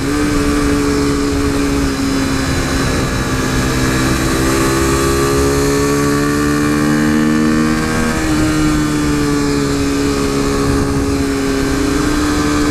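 A modded 2015 KTM RC 390 single-cylinder motorcycle drones loudly and steadily while riding, its engine tone shifting gradually up and down through the gears, with constant wind rush and no talking.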